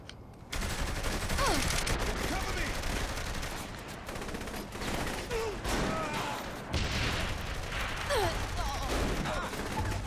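Dense gunfire and explosive blasts from a shootout in the open-world crime game Saints Row: The Third, loud and continuous for about nine seconds, including a grenade thrown at attackers.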